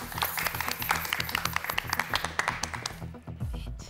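Studio audience applauding at a Turkish daytime cooking competition, a dense burst of many hands clapping that swells and then tapers off near the end.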